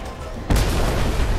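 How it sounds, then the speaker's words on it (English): A heavy airstrike explosion on a snowy arctic stronghold map in the game Renegade X, one loud sudden boom about halfway through that leaves a sustained rumbling roar after it. "Airstrike."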